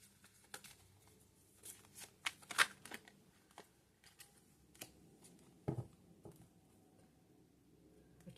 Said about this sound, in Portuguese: Vou tirar mais duas cartas.